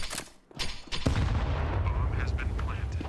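Gunfire in Counter-Strike during a professional esports match: a few sharp, close shots crack early, then a heavier burst of rapid fire and booming impacts continues loudly over a rumbling background.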